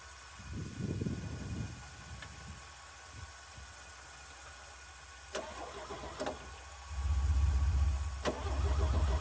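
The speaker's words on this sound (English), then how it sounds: "First, I'm gonna start my truck, so it might be a little hard to hear me because of the noise of the engine" A 1965 Chevy C50 grain truck, abandoned for years, cranks in a few brief bursts before its engine catches and settles into a loud, steady low rumble near the end.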